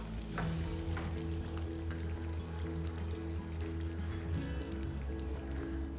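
Cream goes into a simmering paneer black-pepper gravy in a hot pan, giving a soft, low bubbling sizzle with gentle pouring and stirring sounds, faint and steady throughout.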